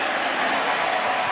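Loud college football stadium crowd at a Western Kentucky versus Marshall game, a dense roar of cheering and noise from thousands of fans, steady and close throughout with no break.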